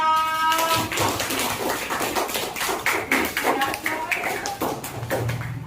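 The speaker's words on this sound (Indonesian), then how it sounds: "kita beri aplaus dulu untuk kelompok 6" Audience applause for a presenting group in a classroom session, a steady patter of many hands clapping with some talk mixed in.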